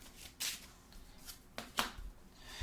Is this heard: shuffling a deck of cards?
yes